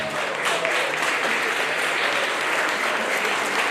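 A large audience applauds at the launch programme for the 17th TCS World 10K Bengaluru run, a dense, steady wash of many hands clapping at once, sustained and even throughout with no voices standing out.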